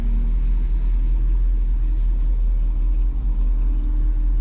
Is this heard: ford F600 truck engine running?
yes